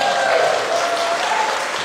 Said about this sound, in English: Should we give her a cheer?